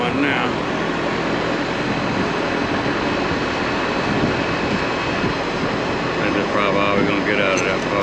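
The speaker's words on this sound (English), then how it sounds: "Cool air blowing now." A 4-ton Goodman air conditioning unit blows a steady, loud rush of cool air, a continuous broadband whoosh that runs unbroken throughout.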